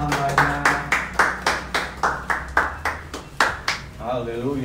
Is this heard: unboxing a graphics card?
no